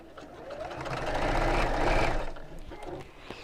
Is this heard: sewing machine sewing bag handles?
yes